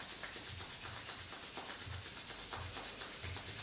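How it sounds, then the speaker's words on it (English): Palms rubbing together in a steady back-and-forth rhythm during a yin yoga session, a soft, close, dry swishing that repeats in even strokes with no talking. "So rubbing your palms together, creating heat and light between the hands."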